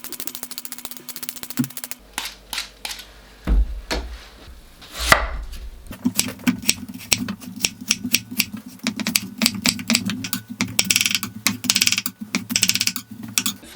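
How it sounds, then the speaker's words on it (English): Peeling cooking apples in a home kitchen for an apple cake, a series of close, crisp scraping and cutting strokes in irregular bursts, with a low hum and a few knocks in between. "First job, we're going to peel our delicious cooking apples."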